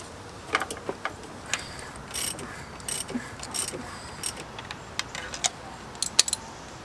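Spark plugs come out of a Honda Civic engine with the valve cover off: quiet, close, irregular metallic ratchet clicks and clinks of tools and parts, in short scattered bursts.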